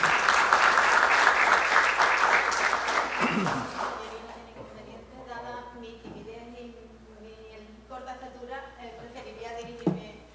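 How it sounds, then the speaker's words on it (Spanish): An audience applauds a doctor invited as a speaker at a court event, loud dense clapping for about three seconds before it fades, after which a voice talks over faint room noise. "Le damos un fuerte aplauso, por favor, a la doctora."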